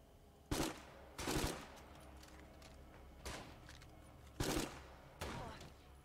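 Enemy gunfire in State of Decay 2, heard as several separate loud cracks and short bursts spaced across a few seconds over a quiet background.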